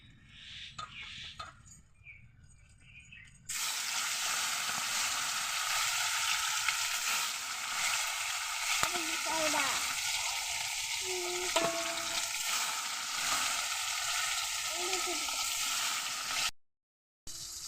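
A large fish fries in hot oil in a wok, a loud, continuous crackling sizzle that starts abruptly after a quieter opening and carries on close-up with occasional spatters and utensil clinks.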